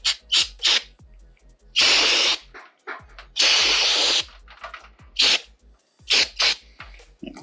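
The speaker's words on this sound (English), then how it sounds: "Spray this out with a little cleaner here." Short bursts of cleaner sprayed onto an automotive transmission valve body from a 4L60E, a few hissing spurts separated by small clicks and handling noises, close up.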